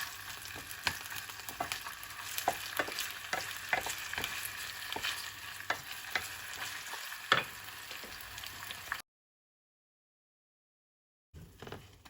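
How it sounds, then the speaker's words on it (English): Egg stew being stirred in a frying pan: a spoon scrapes and taps repeatedly against the pan over a soft, steady sizzle, close by, with no voices, ending in a brief silence before the frying resumes. "Then we will stir this for like 2 minutes"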